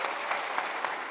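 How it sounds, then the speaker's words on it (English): An audience at an inclusion summit claps briefly, a short, dense burst of applause heard close up with a few slightly louder pulses. "Claps, please."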